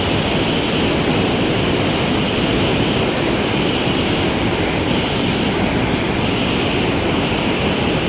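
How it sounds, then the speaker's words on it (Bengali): Powerful rushing water pouring through the Farakka Barrage, a loud, dense, steady roar that fills the whole scene without letup, heard close and alone. "দেখো এই সাইড দিয়ে জল যাচ্ছে, প্রচুর বেগে জল যাচ্ছে।"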